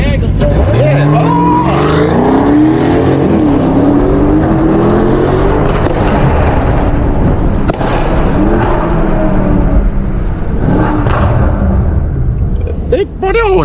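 A 640HP BMW M550i on a late-night street run, loud exhaust roaring through hard acceleration pulls with rising and shifting engine tones, voices talking over it inside the car.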